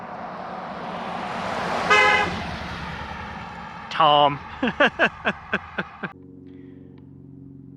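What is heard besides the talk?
car passing by on the road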